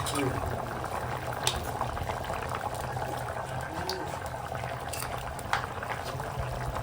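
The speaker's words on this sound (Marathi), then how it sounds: "आता आपलं मटण छानपैकी शिजलंय आणि आता त्याला लावायचं वाटण" Goat mutton curry simmers in a pot at home after the ground masala paste is added, giving a steady, close bubbling and gurgling with faint voices in the background.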